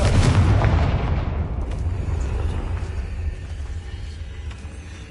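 A Confringo spell explodes in the Hogwarts Legacy video game with a heavy boom at the start, then a long rumbling decay that fades over several seconds with scattered faint debris.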